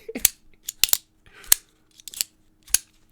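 Sharp mechanical clicks from a Demko AD 20.5 folding knife snapping open and shut on bearings, about eight crisp clacks in uneven pairs and singles, close up and alone.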